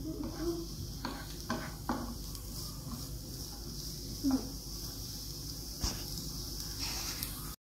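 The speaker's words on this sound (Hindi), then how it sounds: "इसमें ऑनियन को हल्का सा लाइट पिंक जैसा करना है" Onions frying in a pan for baked pasta, a steady low sizzle with a few faint stirring scrapes and utensil taps, fairly quiet and continuous with no talking.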